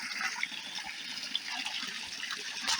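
Water rushing and gurgling through a gravity suction dredge with a tapered nozzle, a steady close hissing flow with small splashes and surges and no talking.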